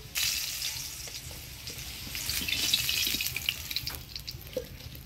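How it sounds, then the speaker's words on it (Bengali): Potatoes frying in oil in a pan for a village-style mutton curry, a steady loud sizzle and crackle with occasional stirring clinks. "আলুটা ভালো করে ভাজিয়ে নিলাম, এবার নামিয়ে নেব।"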